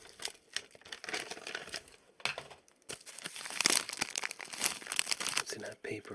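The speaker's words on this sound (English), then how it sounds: "Makes pretty good crinkly sounds, actually." A paper wrapper crinkles and rustles in close, dense bursts at an ASMR-style sleep-aid session, with a short quieter pause partway through. Soft talking can be heard underneath.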